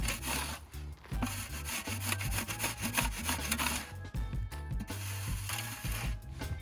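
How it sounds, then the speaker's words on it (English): A shovel scrapes damp silt and hard-packed dirt on a bike park trail at Woburn Bike Park, with repeated rough rasping strokes close by and brief gaps between pushes, without speech. "a quick bit of work with a shovel"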